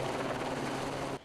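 A helicopter flies over a wildfire in Brunswick County, its loud, steady rotor and engine roar filling the air before dropping off abruptly near the end.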